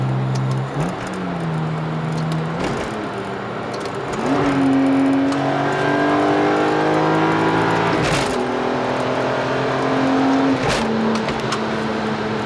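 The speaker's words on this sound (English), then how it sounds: "I'm gonna go downshift and accelerate." A BMW E46 M3 with an SMG transmission downshifts and accelerates, its engine note dropping and then climbing through rising revs, heard loud and close from inside the car.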